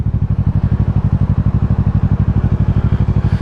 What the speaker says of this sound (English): it's a motorcycle cop